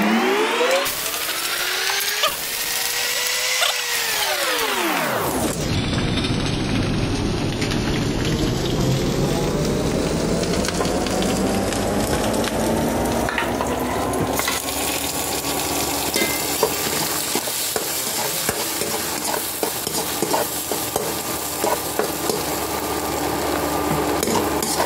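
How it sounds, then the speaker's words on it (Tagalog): Steady, loud sizzling and crackling of garlic sautéing in a hot pan, continuous throughout with a constant hiss, while a separate tonal sweep rises and falls in the first few seconds. "mag-saute na tayo ng garlic"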